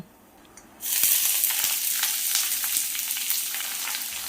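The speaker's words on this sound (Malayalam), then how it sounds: "എണ്ണ നന്നായിട്ട് ചൂടായി വരുമ്പോൾ കുറച്ച് കടുക് വറ്റൽ മുളക് കുറച്ച് കറിവേപ്പില കൊടുത്തിട്ടുണ്ട് പിന്നെ ഇനി ഇതിലേക്ക് അരിഞ്ഞ് വെച്ചേക്കുന്ന ഈ ചെറിയ ഉള്ളി ചേർത്ത് കൊടുക്കാം" Sliced shallots drop into hot oil already holding mustard seeds, dried red chillies and curry leaves, and a sudden loud, dense sizzle bursts up and keeps crackling steadily, with a few sharp pops, close to the pan.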